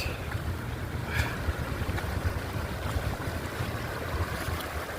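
Fast stream water rushes and churns steadily at a creek crossing on the Appalachian Trail, a dense, continuous wash close to the microphone with a little wind buffeting and no voices.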